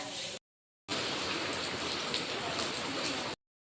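Steady rain falls in a constant hiss of drops, cut briefly by a silent gap, with no voices.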